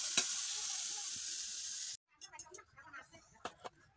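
Potatoes and eggplant frying together in oil for a spinach dish give a steady, loud broadband sizzle for about two seconds, then it cuts off and gives way to scattered clicks and stirring noises.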